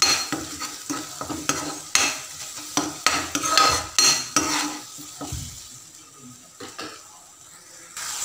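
A spoon stirs mushroom curry with onions, salt and ghee in a pan. Close scraping strokes sound in a quick rhythm over a soft sizzle, then thin out toward the end, with no voices.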